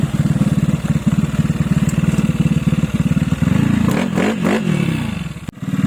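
Honda Mio scooter engine converted to fuel injection, running with a rapid steady putter and revving briefly near the end, loud and close with no talk.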